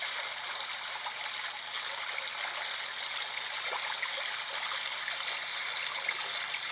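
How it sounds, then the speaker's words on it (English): The brook setting of a HoMedics white noise machine: a steady, even rush of trickling stream water, soft and continuous with faint gurgles and no voices. "Next is brook, so kind of like a river sound."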